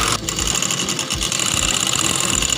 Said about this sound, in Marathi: तर आता आपण काय करणार आहोत, बाकीच्या थोड्या बाजूने शिलाई मारून घेणार आहोत.